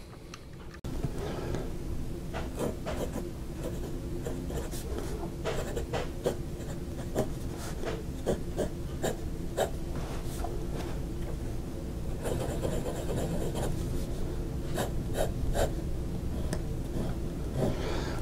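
A Kaco Sky II fountain pen, likely posted, writes steadily on paper with a soft continuous scratch and rub, broken by brief ticks and lifts of the nib, close up with no talking.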